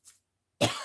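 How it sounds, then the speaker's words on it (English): A single close cough, sharp and short, after a faint breathy sound and a moment of silence. "got that cough."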